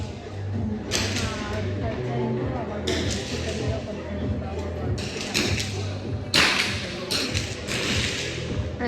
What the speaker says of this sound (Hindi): ऐसे आवाज आ रही है गन की